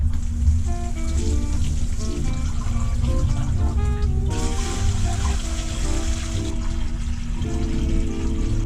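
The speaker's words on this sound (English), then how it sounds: "I'm gonna use this colander. That way the water is dispersed and won't kick everything up" Tap water pours steadily through a colander into a freshwater aquarium, making a loud, continuous splashing patter like heavy rain. It runs unbroken the whole time with no voices.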